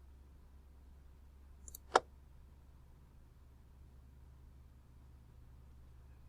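A single sharp computer mouse click when saving a file, clear and close against a faint steady hum, with a softer tick just before it.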